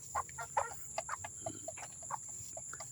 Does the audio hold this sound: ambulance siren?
no